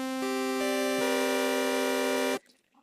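A single sustained xenharmonic chord called Ahishifut, rich bright synth-like tones held steadily for about two seconds with notes stacking in, then cutting off abruptly to near silence.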